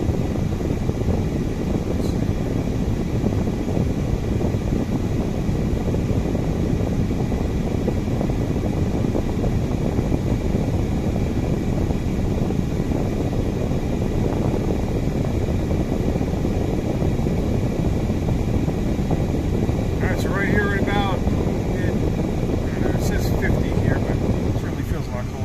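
Air conditioning in a parked Chevy Colorado pickup blowing steadily, a constant loud broadband rush of air from the vents that lasts throughout with no break.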